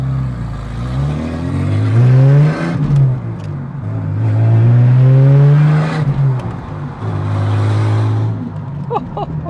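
A Ford Falcon engine revs up and down several times through a loud Redback exhaust, the tone rising and falling in strong, close bursts.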